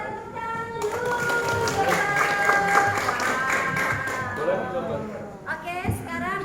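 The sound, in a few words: applause from audience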